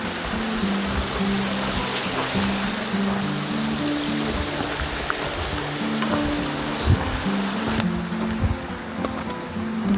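A river on an abandoned forest trail in Japan rushes steadily, a broad continuous watery wash with a low rumble, close and constant across the whole stretch.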